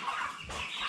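Broiler chickens about 38 days old, being weighed in a poultry house, cluck and chatter close by in a busy overlapping flock, with no talk over them.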